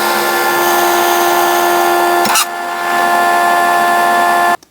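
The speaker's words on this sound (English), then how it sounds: "First I'm going to drill the holes in the actual tool." A power drill whines steadily and loudly while boring holes through a metal chain whip tool, briefly dipping mid-cut before spinning on and cutting off abruptly.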